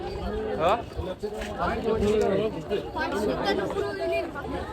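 A busy Sunday crowd at the Jejuri temple town chatters in many overlapping voices. The murmur is steady and close, with no single voice standing out.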